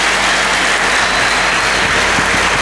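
Dense, continuous clapping from a crowd fills the whole moment, loud and even without pauses, no talking over it.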